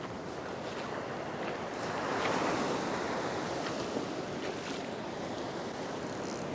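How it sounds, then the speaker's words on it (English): Ocean surf washes steadily against a rocky fishing shore, a broad rushing roar that swells in the middle and stays constant, with wind buffeting the microphone and no talk. "I've noticed the waves are calming down a little bit"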